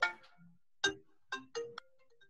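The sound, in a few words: mobile phone ringing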